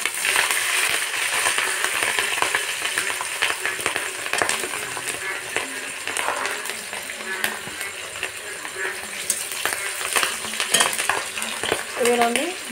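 Crushed ginger paste and slit green chillies frying in tempering oil with bay leaf and dried chilli for khichuri, giving a loud, continuous sizzle with spatters, spoon scrapes and metallic clinks.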